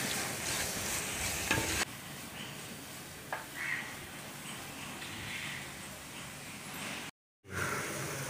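Masala with coriander powder frying in a pan for a rohu fish curry, a continuous soft sizzle with stirring scrapes, steady and close, with a brief dropout near the end.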